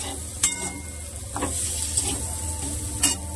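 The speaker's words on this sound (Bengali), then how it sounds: "আলু ভাজাটা একটু লেগেও এসছে। কিন্তু মোটামুটি হয়ে গেছে। এবার এটা নামাবো।" Potato slices frying in a pan give a steady, moderately loud sizzle, broken by a few sharp scrapes and clicks as the pieces are stirred, with no talk.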